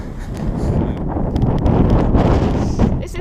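Strong wind in Svalbard buffets the microphone with a loud, continuous rumbling roar, gusting steadily throughout, with faint voices and light rustling mixed in.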